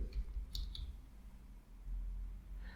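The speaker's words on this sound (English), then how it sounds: "So we can click on this button." A computer mouse button clicking at a desk, two faint, close clicks early on against a low background hum.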